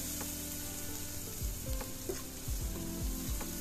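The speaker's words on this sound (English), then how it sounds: "throw in the onion we prepped earlier, throw in the garlic as well, and give that a good saute" Chopped onion and garlic saute in a hot pan for rice, sizzling steadily while a utensil stirs and scrapes through them in several close, repeated strokes.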